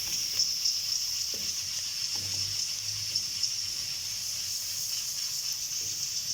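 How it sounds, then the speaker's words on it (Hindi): Cumin seeds and bay leaves frying in hot oil, a steady broadband sizzle that holds evenly throughout with a few faint low knocks of a utensil underneath. "हमारा ज़ीरा और तेज़पत्ता इसमें फ्राई होना शुरू हो गया है"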